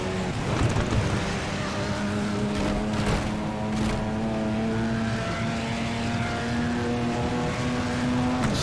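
A racing car's engine in the game FlatOut 4: Total Insanity drones steadily and climbs gradually in pitch as it accelerates along a straight, loud and continuous with no talk.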